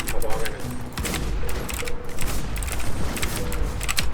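Gunfire from the game Warz comes as rapid bursts of shots with mechanical clatter, close and loud, while someone talks over the shooting.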